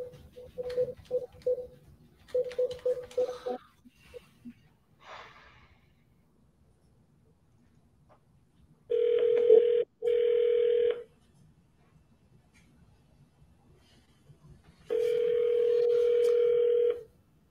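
Telephone line sounds: a quick series of short beeps, then long steady ringback tones twice, with quiet breathing and movement between.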